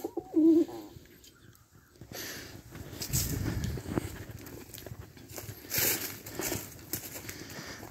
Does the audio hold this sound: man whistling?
no